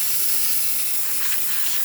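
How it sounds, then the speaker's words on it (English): A La Pavoni espresso machine steam wand gives off a steady, loud hiss of steam, even and unbroken, with no voices over it. "have a nice steady steam coming out of the machine"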